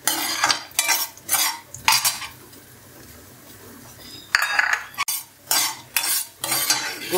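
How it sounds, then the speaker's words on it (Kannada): Cashews and raisins frying in a pan for sajjige are stirred with a metal spatula, making loud clattering scrapes in rhythmic bursts, then a short pause before the stirring resumes over a faint sizzle. "ಗೋಡಂಬಿ ಎಲ್ಲ ನೀಟಾಗಿ ಫ್ರೈ ಆಗಿದೆ ನೋಡಿ"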